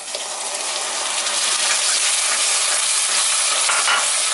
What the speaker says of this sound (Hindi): इसमें अब हम डालेंगे टमाटर की प्यूरी।